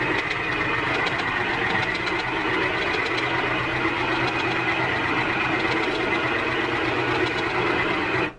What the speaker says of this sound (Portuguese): eu vou apertando aqui o pedal e assim que terminar eu mostro pra vocês